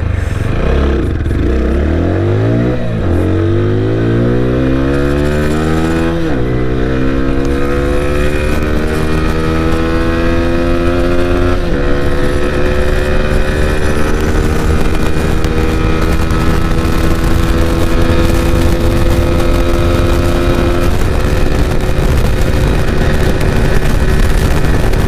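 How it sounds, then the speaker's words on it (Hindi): A 2021 TVS Apache RTR 160 4V motorcycle in high-power mode runs flat out toward top speed, its engine note climbing steeply through several gear changes into a sustained loud drone with rushing wind, close to the microphone and without talk. "तो अभी एक बार चेक कर लेते हैं क्या टॉप स्पीड आएगी अपनी बाइक की।"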